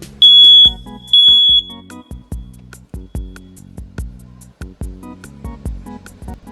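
A new house smoke and carbon monoxide alarm sounds two loud, piercing, close-up beeps, followed by clicking and handling knocks as it is tested.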